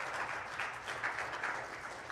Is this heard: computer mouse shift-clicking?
no